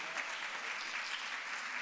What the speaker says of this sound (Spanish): Aplausísimo.